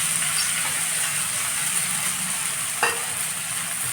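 Cumin, asafoetida, onion and garlic fry in hot oil as the base for oro, a roasted-brinjal dish, giving a steady close hiss and sizzle with one brief clatter near the end.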